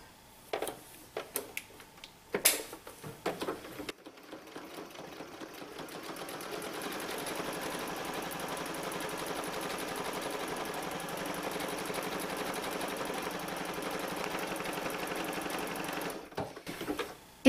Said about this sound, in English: I've been stitching with this old Kenmore for more than 30 years.